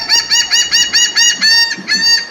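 A seagull by a shell-strewn beach gives a loud, close run of about nine harsh, nasal calls in quick rhythmic succession, standing alone with nothing else heard.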